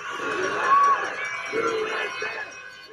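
An angry crowd of protesters shouts and cheers in a mix of voices, rising and falling in loud waves at a moderate distance.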